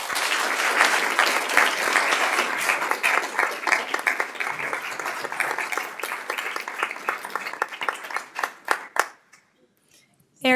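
Sustained applause from an audience at a community award ceremony honoring healthy homes, dense and loud for about nine seconds before thinning to scattered claps and fading out, with a brief sound at the very end.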